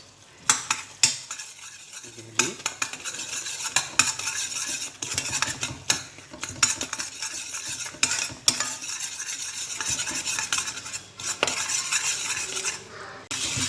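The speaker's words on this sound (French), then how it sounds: "Et là, vous mélangez avec votre lait que vous avez mélangé avec de la farine." Whisk or spoon stirring a milk and flour mixture into melted butter in a pan on the stove, scraping and clinking against the pan in a steady rhythm with faint sizzling, close and moderately loud.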